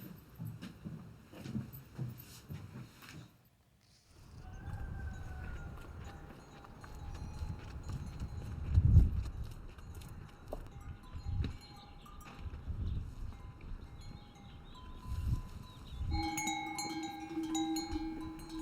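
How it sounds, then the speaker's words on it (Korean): Donkeys stirring on a Nepal mountain trail near the Annapurna range, hooves clopping unevenly while small bells jingle intermittently, moderately close with some low rustling and handling noise in the background. "밤새 서서 잠을 청한 당나귀들이 방울소리 정겹게 원기를 채우고"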